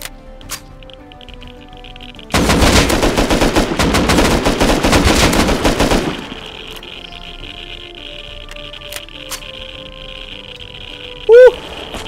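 Rapid automatic gunfire in the survival game Rust erupts as a dense, loud burst of rattling shots lasting several seconds, then drops away to a quieter ambient bed with scattered clicks and a brief squeaky tone near the end.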